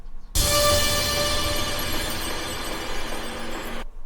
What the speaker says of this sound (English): And then of course impacts and crashes.